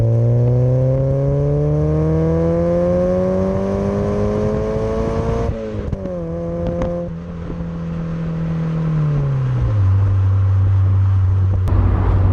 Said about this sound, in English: so we can enjoy the tones of this lovely exhaust.